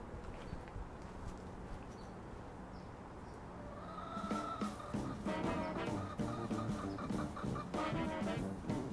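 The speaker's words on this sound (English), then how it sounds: "This black bird, she's letting me know that she wants to lay an egg and that she's not happy in the coop area." A black backyard hen in a coop area clucks insistently, wanting to lay an egg; faint at first, then a loud, close run of repeated agitated clucks and squawks over low background noise.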